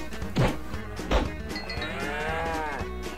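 A baby cow in the Minecraft ExpandMod mod gives a drawn-out, wavering moo that starts after two short thumps and swells and falls over about a second and a half, loud and close, with no talking.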